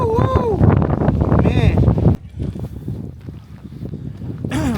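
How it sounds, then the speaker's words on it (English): Strong wind gusts while wild camping in extreme weather buffet the microphone with loud, rumbling roars that surge and drop abruptly, while voices call out over the blustery noise. "you can probably hear the gusts here now. It is brutal out here."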